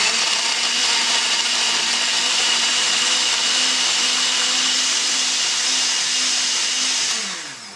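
A kitchen blender whirs steadily while blending tapenade ingredients for seasoning salmon, a loud continuous motor whine held throughout before tapering off at the end.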